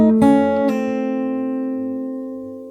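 Fingerstyle acoustic guitar playing part of a song: two plucked notes close together, then a long, clear ring that slowly fades, with no talking.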